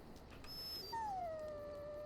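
A warhound dog in the Dragon Age video game lets out a single high, drawn-out whimper that slides downward and trails off, heard close and alone without any talking.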